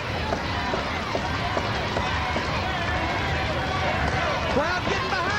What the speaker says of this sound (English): Crowd getting behind him.